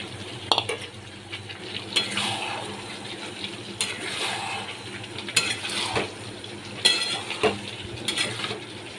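Fried potatoes being stirred into chicken curry in a pot: repeated scraping strokes of a utensil against metal come at a steady rhythm, each followed by a soft wet sizzle, close and fairly loud.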